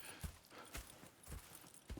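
Horse hooves clip-clop at a steady walking pace in Red Dead Redemption 2, four evenly spaced soft thuds within two seconds, quiet and close, with no other sounds.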